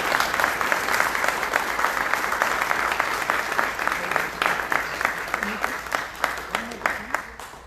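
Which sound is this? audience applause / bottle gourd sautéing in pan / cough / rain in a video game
audience applause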